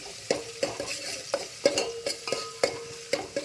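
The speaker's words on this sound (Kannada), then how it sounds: "ಫ್ರೈ ಆಗ್ತಾ ಇದೆ ಓಕೆನಾ ಈರುಳ್ಳಿ ಫ್ರೈ ಆಗಲಿ" Onions frying in a pan while being stirred: a soft low sizzle under a regular series of distinct spoon-on-pan scrapes and taps, about a dozen close strokes in a loose rhythm, no talking.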